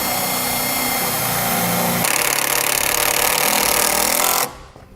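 Power driver running 5/16 self-tapping screws through sheet metal beside the firewall of a 2017 Jeep Wrangler to mount a circuit breaker: loud, continuous whirring and grinding that cuts off abruptly.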